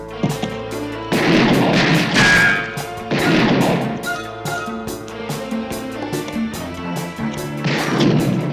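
Heavy gunfire in a police shootout, loud repeated shots and booming cracks in rapid irregular bursts, close and sharp, with no voices.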